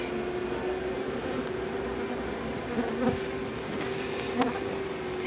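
Honey bees buzzing at a hive entrance while foragers bring in pollen, Buckfast and Carniolan colonies checked in November, a continuous close, soft droning hum with occasional individual bees passing near.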